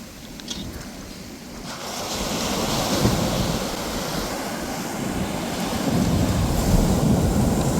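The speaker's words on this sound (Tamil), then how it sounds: "பாருங்க கடல் அலைகளை" Sea waves wash up onto and back off a beach in a steady, continuous roar of surf, with wind noise buffeting the microphone throughout.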